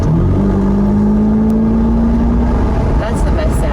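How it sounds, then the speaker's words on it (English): Ferrari F8 Tributo Spider V8 revving and then dropping through a downshift, a loud, steady engine tone close by that sags toward the end, with a voice talking over it. "That's the best sound. Get even better. Downshift again."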